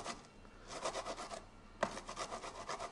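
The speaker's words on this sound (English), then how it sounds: "I don't know if it's going to grate as easily as that zucchini, but we're going to try." A vegetable rasped across a hand grater for a veggie burger, close and fairly quiet, in rhythmic back-and-forth scraping strokes with a brief pause partway through.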